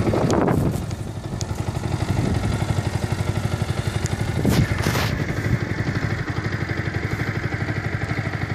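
A 2015 Yamaha YZF R125 in Race Blue catches after a short starter burst, then settles into a steady, close, rhythmic single-cylinder idle with light mechanical clatter.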